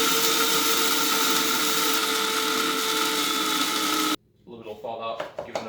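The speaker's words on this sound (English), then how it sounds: "put my grinder cap on, and then usually about 15 seconds is a good time" Electric coffee grinder whirring steadily on coffee beans, a loud continuous high buzz that cuts off abruptly, followed by a short tapping sound.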